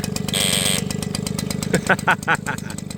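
An AVANTI X-BIKE motorcycle engine runs steadily with a rapid, popping putter, close and fairly loud, with a brief whine early on and some speech mixed in over it.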